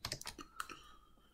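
Quick keystrokes on a computer keyboard spell out a short word, a rapid burst of close, crisp clicks with no voices.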